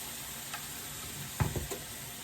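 Shrimp sizzle on a hot hibachi-style griddle in a steady, close frying hiss, with a few brief scrapes from flipping near the end and no voices.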